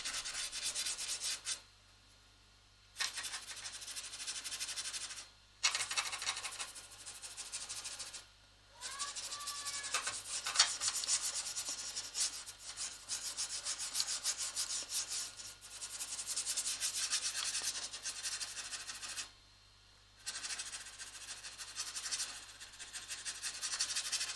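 A paintbrush blending paint scrubs back and forth across rough plywood in close, steady rasping strokes, broken by a few short pauses.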